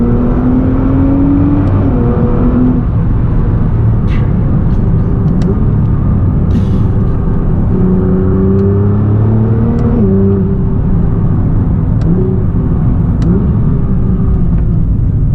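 Nissan GT-R Nismo accelerating hard, with a loud, steady engine roar that climbs in pitch through the gears, with shifts around two and ten seconds, heard from inside the car without talking.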